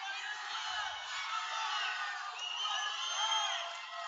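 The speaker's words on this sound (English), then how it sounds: "Getting a good pop from the crowd." A crowd at an obstacle course ninja competition cheers and whoops steadily for a competitor, with a broad, sustained roar of voices rising and falling slightly across the moment.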